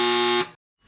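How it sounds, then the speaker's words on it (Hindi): A quiz show answer buzzer is pressed once. It gives a loud, steady electronic buzz for about half a second, then cuts off into silence. "जो बज़र पहले दबाएगा उसको जवाब देने का चांस मिलेगा"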